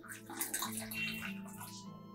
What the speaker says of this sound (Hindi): गर्म पानी डालेंगे